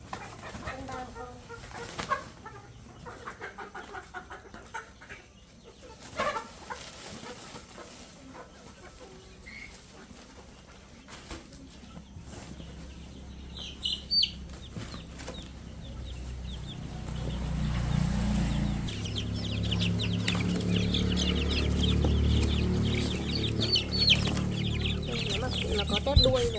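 A large rooster and other chickens cluck in scattered short calls across a rural setting, with people talking intermittently and a low rumbling background rising toward the end.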